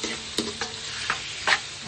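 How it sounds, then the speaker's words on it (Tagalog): Chicken strips are stir-fried with onions in a pan for pancit, giving a lively sizzle broken by several quick scraping spatula strokes, close and clear with no talking. "ilagay ang sahog na chicken stripes. Mix well together."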